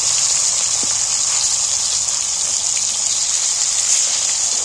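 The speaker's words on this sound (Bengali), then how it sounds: "দেখো মাছগুলো আমি হালকা করে ভেজছি" Hilsa fish pieces frying lightly in oil for a Bengali fish curry, a loud, continuous hissing sizzle that stays even throughout.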